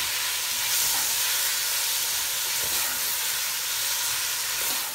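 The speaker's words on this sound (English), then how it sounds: "I will now let the onions cook in the oil for about a minute" Onions frying in oil with salt give off a steady, soft sizzle and hiss, continuous and close, with no talking.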